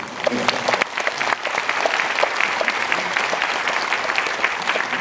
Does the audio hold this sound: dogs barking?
no